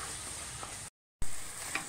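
Spice powders for a spicy chicken curry sizzle steadily in a pan while being stirred, with a brief silent cut midway before the close frying resumes.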